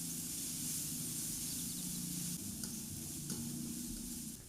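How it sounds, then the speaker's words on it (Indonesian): Chopped garlic and chili sautéing in hot oil in a pan, a steady close sizzle with stirring, unbroken for the whole stretch. "Masukkan bawang dan cabai yang udah kita cincang tadi. Kemudian aduk dan tumis sampai harum."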